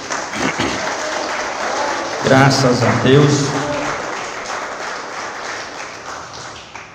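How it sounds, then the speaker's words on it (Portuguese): A church congregation applauding during a worship service, a loud burst of clapping swelling midway and fading out, with a preacher's voice speaking over and around it. "Vamos aplaudir nosso Deus."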